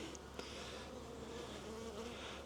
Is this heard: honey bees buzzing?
yes